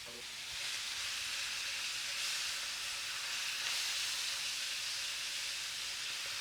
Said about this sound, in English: We're gonna go ahead and brown some meat. We're gonna get our ground sirloin. That's going in right now.